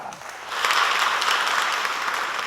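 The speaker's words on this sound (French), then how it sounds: "Est-ce qu'on peut applaudir pour les vacances" A school audience claps together to cheer the start of the holidays, a dense wash of hand claps that swells after a brief quieter start and then holds steady, loud and close, with no voices over it.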